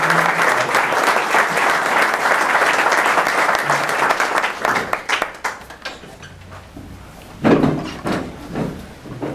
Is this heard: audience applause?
yes